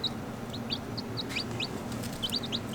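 Freshly hatched chicks peep in a brooder, a string of thin, high, rapid cheeps scattered irregularly through the clip, faint and set against a steady low background hum.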